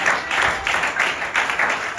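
Church congregation applauding the Lord during a sermon, loud dense clapping in rhythmic surging waves, close and continuous with voices mixed in.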